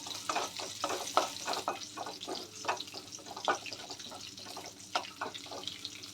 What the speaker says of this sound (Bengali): লং আর দারচিনি আর গোটা জিরা ফোড়নে দিয়ে দেব।